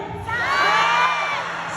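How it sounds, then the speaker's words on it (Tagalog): Concert crowd shouting together on cue, a loud massed roar of cheers and whoops that swells quickly and holds for over a second. "Pwede bang sumigaw tayo lahat ng saan yung pinakamalakas?"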